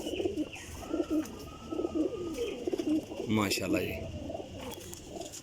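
Teddy golden high-flying pigeons coo repeatedly at close range, their low throaty calls mixed with brief chirps while someone talks over them.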